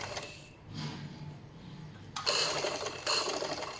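A sewing machine stitches slowly along the edge of cutwork on a tissue fabric dress, with a soft whirring run, a brief pause, then two louder bursts of rapid mechanical stitching close by.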